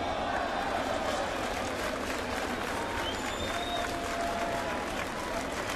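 Baseball crowd at a ballpark applauding a young kid's grab of a foul ball near the broadcast booth, steady sustained clapping and cheering throughout, with a voice talking over it.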